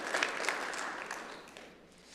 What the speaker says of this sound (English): We can still clap even if Persephone's not here.